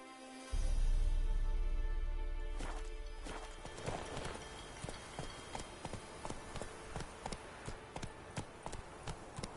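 A horse gallops in The Witcher 3, starting with a loud rumbling surge and then settling into steady, close, rhythmic hoofbeats that keep going to the end.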